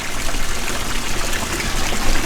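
Water from a watering can or hose pours and trickles steadily onto tropical houseplants during garden care, a continuous broadband splash with no speech.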